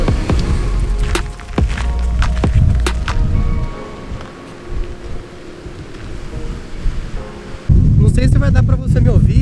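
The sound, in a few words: wind blowing on the microphone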